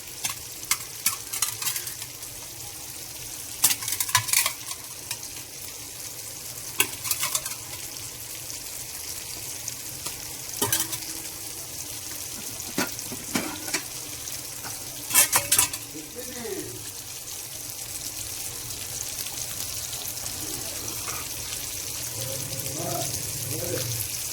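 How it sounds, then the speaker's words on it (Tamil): Egg curry simmering in a pot with boiled eggs being added, giving soft bubbling and occasional stirring clinks and scrapes, with kitchen clatter and faint background noise throughout and no talk. "குழம்பு நல்லாவே கொதிச்சு கிட்டத்தட்ட ஒரு பத்து நிமிஷம் நல்லா கொதிச்சிட்டு நம்ம அவிச்சதுக்கு முட்டையை போட்டுக்கிறாங்க"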